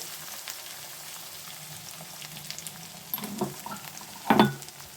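Crushed garlic cloves frying in hot oil for tomato pachadi, a soft steady sizzle that swells into louder crackling spatters near the end, with no talk.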